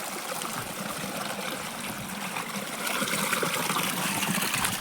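Water flows steadily along an irrigation channel beside Konkan farm fields, fed from a hillside above, a continuous broadband rush and trickle that grows slightly louder partway through, close by with no voices.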